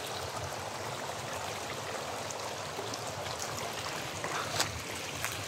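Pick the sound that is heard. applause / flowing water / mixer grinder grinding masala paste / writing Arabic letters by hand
flowing water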